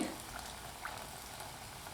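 Raw rice appam batter frying in oil over a medium flame, a steady close hiss and bubbling sizzle that runs evenly throughout with no talk.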